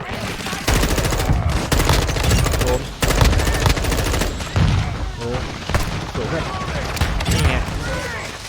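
Rapid bursts of cap gun fire in a shooter video game, loud and nearly continuous over several seconds, with clustered volleys separated by brief gaps and a player's voice talking over parts of it.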